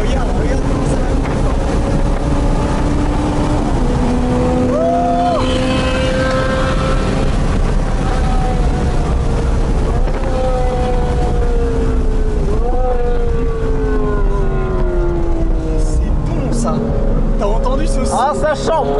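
Sports car engines rev and roar at a Ferrari and AMG driving event, several loud rising and falling passes sweeping close by, with people talking over them throughout.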